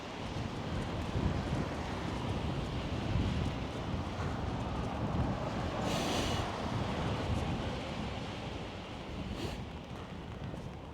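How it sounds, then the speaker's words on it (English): Strong wind gusts steadily through a city street wind tunnel in North Vancouver, a loud continuous roar buffeting the microphone throughout, with no voices. "Saw a wind tunnel over here right now. Quite the wind tunnel."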